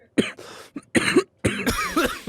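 A person up close gives a few loud, croaky coughs in quick succession, rough and throaty.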